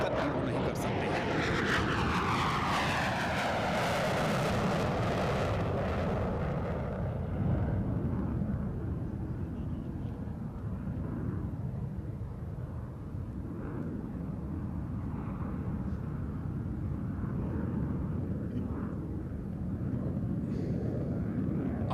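Indian Air Force jets roar overhead above Hindan Air Force Station, a loud, sweeping jet rumble that peaks early and then fades into a sustained distant thunder lasting the whole stretch.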